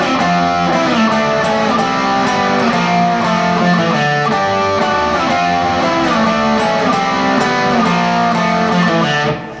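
An electric guitar plays a riff at full speed, a loud, continuous run of repeating notes that ends in a brief fade at the close, with no talking.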